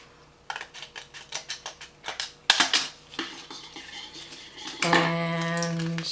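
Small scissors snip metal foil paint pans for a homemade watercolor travel palette, giving a run of sharp, close clicks and crinkles in an uneven rhythm, then a brief ringing metallic scrape near the end.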